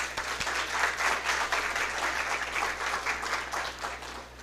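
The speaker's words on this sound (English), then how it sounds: "please, a special round of applause" An audience at the launch of a woodworking apprenticeship programme breaks into sustained applause, a dense, even wash of many hands clapping that continues throughout and fades slightly at the end.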